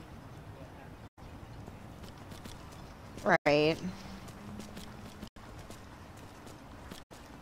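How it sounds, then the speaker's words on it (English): A horse's hooves clip-clop at a walk through a town in the Skyrim video game, steady and moderately close, with a short burst of speech partway through and several abrupt audio dropouts. "Ride my horse through the town."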